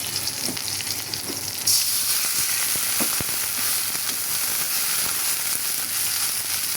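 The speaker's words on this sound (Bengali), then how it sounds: "এখানে পেঁয়াজ বসিয়েছি, এখানে ডাল হচ্ছে, পেঁয়াজ পুড়ে যাচ্ছে" Onions frying in a pot on a home kitchen stove, a steady loud sizzle and crackle that grows denser partway through, with occasional scrapes and clicks and no talking.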